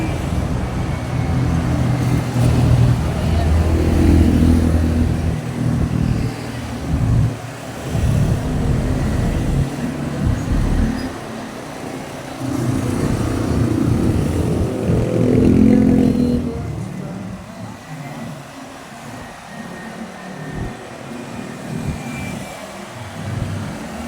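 Highway traffic heard while riding along on a hot day, a steady rush of engine and road noise with vehicles swelling past and fading, continuous and fairly loud.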